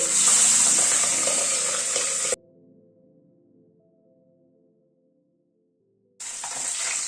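Pabda fish frying in hot oil in a pan, a steady loud hiss and sizzle that cuts out abruptly, leaves a low hum and faint tones, then resumes sizzling.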